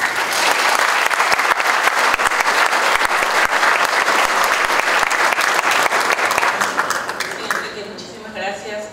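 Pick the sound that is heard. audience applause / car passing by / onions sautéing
audience applause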